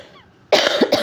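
A single sharp, close cough bursts out after a moment of quiet, followed by a second short cough, from someone talking during an Indonesian tarot reading.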